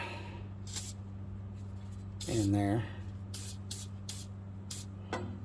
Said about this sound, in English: after we spray some penetrant